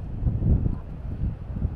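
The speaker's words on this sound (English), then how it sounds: "Quite a windy morning now." Steady wind buffets the microphone on a coastal golf course in the early morning, a continuous low rumbling roar with gusty swells throughout and no talk.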